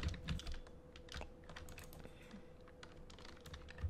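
Computer keyboard keys are pressed in quick irregular bursts during a Bedwars match, with crisp close clicks over quiet game sounds.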